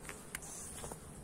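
Honeybees drone around an open ten-frame hive during an August honey and brood check, a soft, steady close buzz with a few brief louder passes, no talking.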